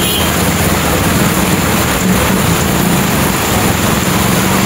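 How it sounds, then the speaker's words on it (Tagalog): Heavy typhoon rain and wind roar as a constant dense hiss over a flooding street-side vendor market. There are no clear pauses or distinct drops, just a steady, loud wash of storm noise. "Grabe yung bagyo na to. Ano bang klaseng bagyo to?"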